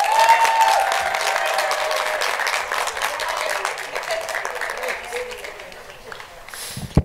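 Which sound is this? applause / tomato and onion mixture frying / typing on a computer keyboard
applause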